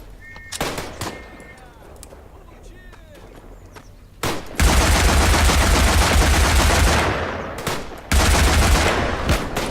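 Gunfire in a firefight in the Tannenberg video game comes in a few sharp early shots, then two long, loud bursts of rapid automatic fire with a short gap between them.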